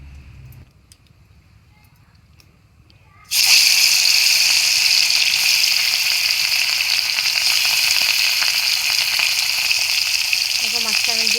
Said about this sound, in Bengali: এবার আমি মাছটা দিয়ে দেবো কড়াইতে।